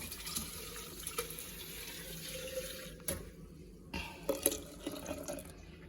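Water pours into a ground paste of onion, coconut and garlic for a potato fish curry, a close splashing trickle with faint drips and no talk.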